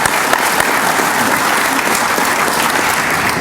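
Large crowd at a basketball booster club event applauding the basketball teams, a dense, steady roar of many hands clapping throughout at close range with no speech over it.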